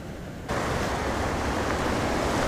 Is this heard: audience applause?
no